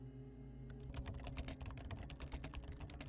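Rapid computer keyboard typing inside a Roblox game, with quick, close key clicks in an uneven rhythm over a low hum. No one speaks.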